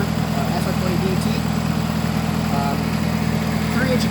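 A 1998 Nissan Avenir SR20DET turbo engine on a stock manifold, with a 3-inch exhaust and custom downpipe, idles with a steady, even low drone, close and constant throughout.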